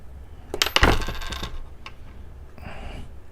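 A coin from a 1942-P roll drops and clatters sharply on a hard surface, a quick burst of metallic ringing and bouncing that settles after about a second, with a faint follow-up rattle.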